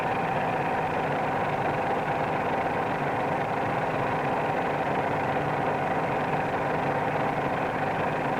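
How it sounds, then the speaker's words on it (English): A steady droning training airplane engine hums continuously at a constant level, close and fairly loud, with no speech over it. "notice that the sound of the engine changes rather slowly"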